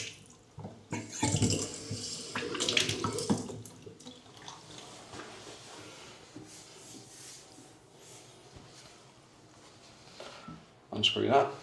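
Water from a rainfall shower head sprays steadily after the supply is switched back on, a fairly loud hiss at first that settles into a softer continuous stream, with brief louder splashes near the end.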